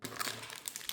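Packaging crinkles and rustles close up during the unboxing of an AGM Pad P2 Active rugged tablet, a brief dense burst of crackling plastic with no talking.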